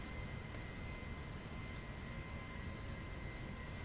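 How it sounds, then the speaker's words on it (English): Aircraft noise from helicopters and planes flying around Los Santos International in the video game GTA, a steady, continuous engine drone heard without speech. "There's helicopters and planes everywhere."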